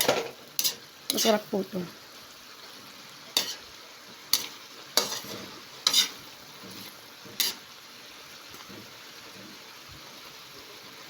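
Chili being stirred into Bicol Express in a pan, with sharp intermittent scrapes and clanks of a utensil over a quiet simmer and a brief spoken remark near the start.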